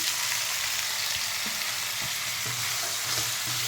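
Potato filling for beetroot and carrot dosa frying in a pan, a steady close hiss of sizzling oil with soft intermittent stirring scrapes.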